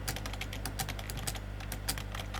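Fast, close typing on a computer keyboard into a single-line text field, a dense run of crisp key clicks with a steady low hum underneath.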